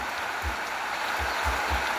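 Rain falls in a steady, even hiss, broken by a few soft low thumps, with no voices over it.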